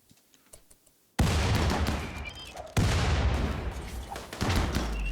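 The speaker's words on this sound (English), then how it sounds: "And then we'll put an EMP grenade there." An EMP grenade detonates in the video game Rimworld: a sudden loud burst with a crackling, sustained roar that briefly cuts out and resumes, following a few faint ticks.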